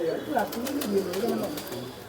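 Pigeons cooing softly in a loft, a few low throaty coos rising and falling close by, with a faint voice in the background.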